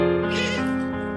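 A small, dirty stray kitten gives one drawn-out, close meow that lasts about a second, heard alone with no talk.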